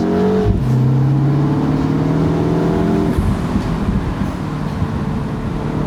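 A 2025 Mini Cooper JCW engine revs and accelerates with the top down, its exhaust droning loud and steady, with rising whine as the turbo builds and a shift partway through.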